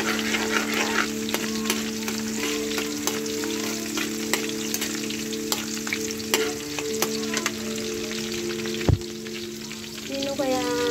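Onion and garlic sautéing in a pan for ground pork, a strong close sizzle with repeated stirring clicks and scrapes over a steady background hum.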